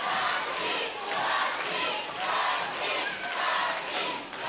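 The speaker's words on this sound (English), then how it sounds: "Crowd trying to will Dillinger back into it." A wrestling crowd at a WAR cage match roars steadily, a dense, loud wall of cheering and shouting that swells and dips in waves as fans rally behind Dusty Dillinger.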